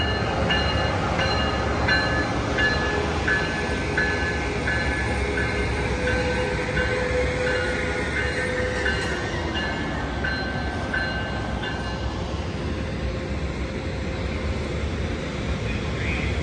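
An Amtrak Capital Corridor passenger train led by an SC44 Charger locomotive rolls through the Martinez station, a loud sustained rumble of wheels on rail with faint tonal squeals.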